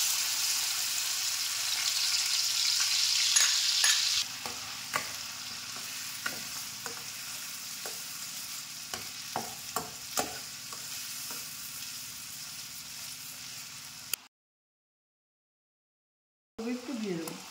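Ginger, garlic and onion paste sizzles loudly in hot mustard oil in a wok. The strong frying hiss eases after a few seconds into softer sizzling with scattered spoon-stirring clicks, then falls briefly silent.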